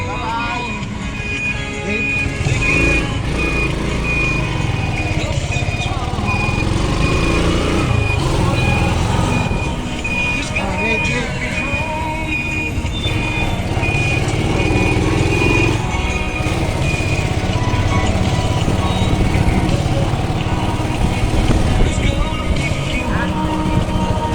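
Steady engine drone of a motorized tricycle during a ride, continuous and fairly loud with road noise, people talking over it and a faint tone running through much of it.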